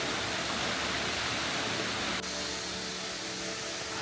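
Waterfall near a remote mountain hot spring inn in Gifu, a steady broadband roar of falling water, continuous and fairly loud with no voices.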